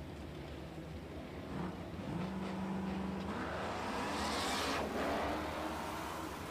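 Two Camaros, an 1982 and a 1969, launch side by side at a drag strip, engines swelling into a loud sustained roar that builds and peaks toward the end, heard from trackside without talk.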